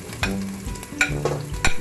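Garlic, onion and ginger stirred in a hot pan for pork adobo, a soft sizzle broken by several sharp scraping clatters of a utensil against the pan.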